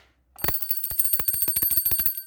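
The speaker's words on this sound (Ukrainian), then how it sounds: "А ось у мене є дзвіночок." A small hand bell rings loud and close, struck in a rapid, steady series of bright metallic chimes with no voices over it.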